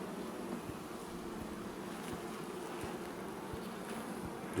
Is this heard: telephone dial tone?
no